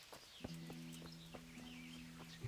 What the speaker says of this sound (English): We're getting on the road and we're getting on our horse